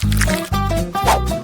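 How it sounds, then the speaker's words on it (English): Thick batter glugs and squelches as it is poured into a waffle iron in three close, wet pulses, loud and near. "And now you can pour it into a waffle iron."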